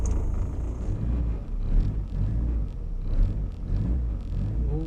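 A 1962 Morris Minor's engine runs at low speed while the car manoeuvres, giving a steady close rumble with gentle surges in revs and no voices.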